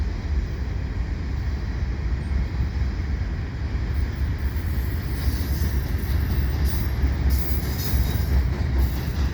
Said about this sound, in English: look at that, all these ballast cars.